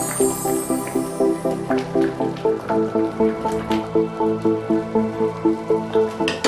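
A pot of Nigerian oha soup with uziza leaf being stirred, producing a rapid, steady run of wet squelching, dripping strokes, loud and close, with no talking.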